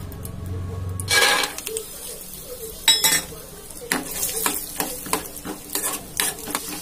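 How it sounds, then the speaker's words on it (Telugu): Peanuts frying in oil in a pan on a stove, a soft sizzle broken by sharp metallic scrapes and clatters of stirring with a utensil, close and fairly loud. "స్టవ్ పైన మళ్ళీ ఆయిల్ వేసి ఇందులో పల్లీలు వేయించుదాం"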